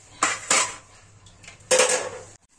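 Metal pot and utensil clanks in three short bursts while chana dal and other lentils are washed in a pot, close and sharp with quiet gaps between.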